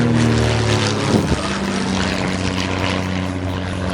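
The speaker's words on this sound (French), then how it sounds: "l'avion semblait vouloir raser le restaurant" A propeller airplane passes low over a restaurant, its engine a loud, steady droning roar that fills the whole stretch.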